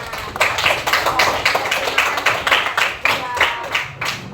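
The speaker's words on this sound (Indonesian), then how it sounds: "kita kasih tepuk tangan" A classroom group claps during student presentations, an uneven run of fairly close handclaps with distinct individual strikes, moderately loud and steady, while a voice talks over part of it.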